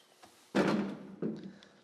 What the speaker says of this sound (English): So we'll pull out this bottom drawer real quick.